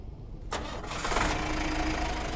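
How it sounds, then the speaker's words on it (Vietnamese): A used 2015 TMT 1.2-ton light truck engine cranks briefly and fires up, then settles into a loud, steady mid-pitched idle with a slight knocking edge, close by and alone. "Rồi bây giờ nổ máy cho quý anh chị xem ha."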